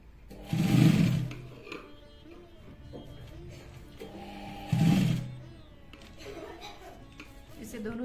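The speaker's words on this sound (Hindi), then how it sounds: "और अब इसको ऐसे रख के हम स्टिच लगा लेंगे।" Sewing machine stitching a fabric strip onto a handmade utility bag, with two louder whirring bursts of stitching, the first near the start and the second about four seconds later, separated by quieter handling noise.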